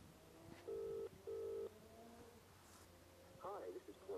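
A mobile phone dials home from a riverbank, two short steady beeping tones sounding in quick succession, followed by faint background noise and a brief voice near the end.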